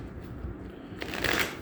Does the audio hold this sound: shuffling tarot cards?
yes